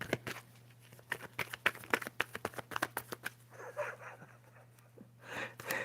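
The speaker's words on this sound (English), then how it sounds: "You want to see me shuffling?" Tarot cards shuffled by hand in a quick run of crisp snapping riffles and slaps for a few seconds, close and fairly quiet, followed by softer rustling and breathy handling sounds.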